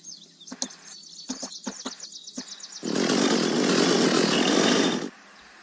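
Chainsaw revving in the video game Unturned, a loud sustained buzzing burst lasting about two seconds after a series of short clicks and chirps.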